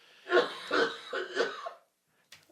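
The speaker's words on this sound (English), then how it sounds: "I turn to you in your fit of coughing rage" A coughing fit of about four harsh, throaty coughs in quick succession, close and fairly loud, followed by silence.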